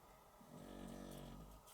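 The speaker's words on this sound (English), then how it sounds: "that's Lady snoring" A dog named Lady snoring softly nearby in a quiet room: a single low, rumbling inhalation swells and fades, faint and close, with no speech.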